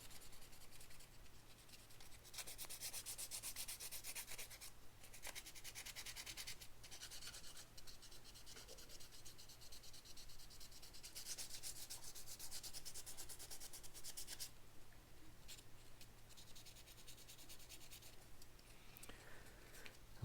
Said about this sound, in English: We'll finish up this sanding